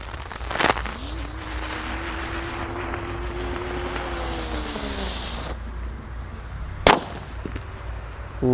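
A red lotus firework burns with a rising whistling screech lasting several seconds, then a sharp crack, amid steady outdoor background noise.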